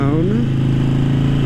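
Harley Davidson Sportster motorcycle on the move, its engine a loud, steady, close rumble with a rising tone, plus a voice speaking over it.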